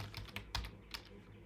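Code is typed on a computer keyboard in short bursts, with a handful of close, crisp key clicks over about a second and a half, alone and fairly quiet.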